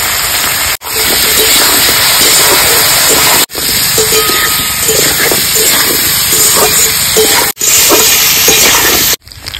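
Cubed potatoes sizzle in hot oil with chili and cumin paste while being stirred and tossed for a Bengali singhi fish curry, a steady loud hiss with a few brief breaks.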